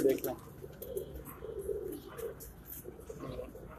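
Teddy pigeons, a flying breed kept on a rooftop loft, coo softly and repeatedly, the low murmuring calls faint and close beneath someone speaking.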